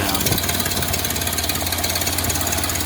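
A 1931 Ford Model A engine idles steadily up close, its loose exhaust bolts giving a rhythmic puffing beat over a constant mechanical drone.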